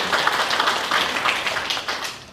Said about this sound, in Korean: 우리 하나님께 다시 한번 영광의 박수 올려드리겠습니다